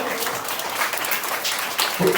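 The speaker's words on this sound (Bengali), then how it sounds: "আপনারা সুপ্রভা আমাদের একটা জোরে হাততালি দিন।" Audience at a school teacher felicitation event clapping in a broad, steady wash of applause, fairly loud and continuous, with some voices mixed in the crowd noise.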